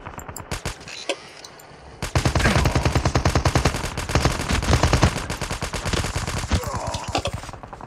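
Automatic gunfire in Call of Duty: a few scattered shots, then long, loud, rapid bursts of machine-gun fire rattling on without pause.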